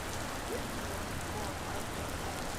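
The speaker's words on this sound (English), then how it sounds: "by the time we geared up and got ready to roll out, it was just pouring rain" Pouring rain roars steadily, dense and close, a constant hiss of heavy drops filling the whole moment with no break; a faint voice may sit under it.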